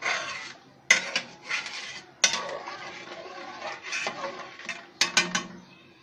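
Rice and lentil khichuri stirred in a metal pot, with scraping, rasping strokes and sharp clinks of a spoon against the pot, close and irregular in rhythm.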